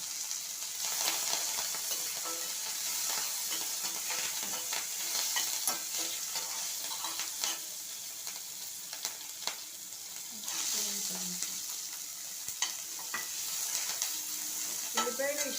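Mild green chillies frying in a pan with a steady, fairly loud sizzle, scraped and stirred now and then, with a few soft knocks of the utensil against the pan.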